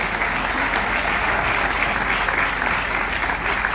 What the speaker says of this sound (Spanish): Que se sienta el aplauso